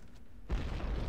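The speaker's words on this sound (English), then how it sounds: "Explosion." A sudden deep explosion from the Splinter Cell video game bursts out after a short quiet moment, a loud low boom that rumbles on briefly.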